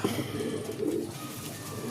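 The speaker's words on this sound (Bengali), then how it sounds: "এই হচ্ছে পায়রা" Pigeons coo softly up close in a short burst of low, throaty, rolling calls, with one bird's voice overlapping another.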